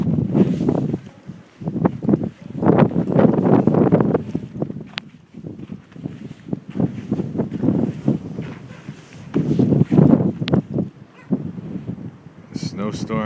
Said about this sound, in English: Oh, that wind is still whipping too.